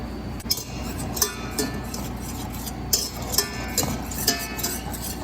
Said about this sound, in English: We're going to stir in our vanilla now and our butter.